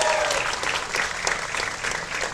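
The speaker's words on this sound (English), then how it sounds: "Give yourself a round of applause." A comic con crowd at a Cobra Kai Q&A panel bursts into loud, dense applause filling a large hall, a continuous roar of clapping with faint cheering mixed in, sustained for the short stretch without letup.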